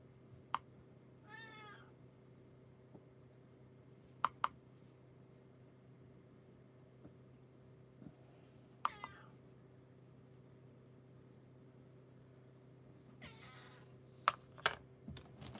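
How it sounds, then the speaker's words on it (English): A cat gives several plaintive meows, spaced apart, over a quiet hum, with occasional sharp clicks of computer keyboard typing in between. "Doesn't my cat sound pitiful?"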